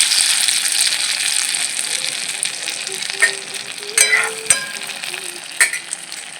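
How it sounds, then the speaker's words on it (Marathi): A bread-crumb coated snack frying in hot oil, a steady hiss of sizzling with several sharp bursts and crackles as pieces are moved or turned, close and fairly loud, with no talking. "फ्राय करू"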